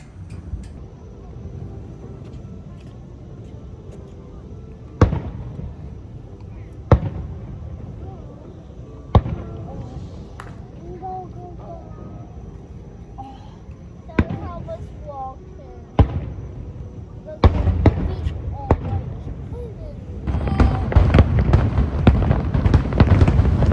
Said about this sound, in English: we've got the Mickey's Very Merry Christmas Party fireworks going on in between Bay Lake Tower